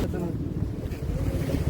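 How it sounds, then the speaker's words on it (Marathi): Rough sea waves wash and roar at Girgaon Chowpatty beach, a loud, churning surge buffeted by wind noise on the microphone, with voices in the background. "समुद्र खवळले आहे आणि ह्या लाटा बघा"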